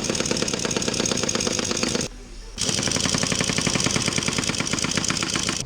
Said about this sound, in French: moi je prends avec la choc